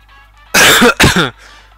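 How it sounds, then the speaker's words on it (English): Two harsh coughs in quick succession, close and loud, against a quiet background. "Sorry, fucking coughing."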